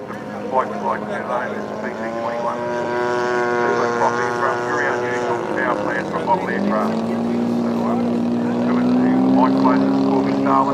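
A radio-controlled Corby Starlet model aircraft, an 8.5 kg almost-ready-to-fly build, taking off at a large model fly-in, its engine droning with rising pitch as it accelerates, loud and fairly near.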